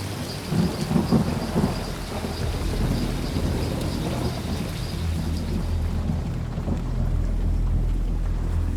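A heavy thunderstorm with steady rain and deep rolling thunder over a river in the Congo, a dense low rumble that swells and churns continuously throughout, with no voices.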